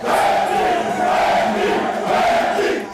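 Pub crowd erupting in loud, sustained cheers and shouts over the San Antonio Spurs' NBA number one overall draft pick, a dense wall of voices filling the room.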